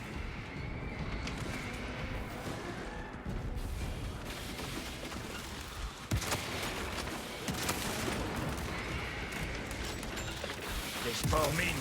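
Bolter gunfire in the video game Space Marine 2, rapid heavy bursts and mechanical clatter in a chaotic battle, mixed with voices speaking over the din.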